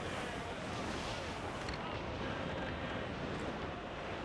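Steady broadband rush of wind gusts while sailing a ship in the video game Assassin's Creed IV Black Flag, a continuous roar filling the whole stretch with slight swells, no clear speech over it.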